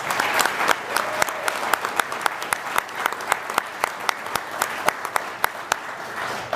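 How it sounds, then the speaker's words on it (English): Audience applauds 2021 Sizzle Award winners at an economic development group's annual meeting, a steady, moderately quiet crowd clapping with sharper individual claps standing out near the microphone throughout. "let's give a big round of applause to our 2021 Sizzle Award winners"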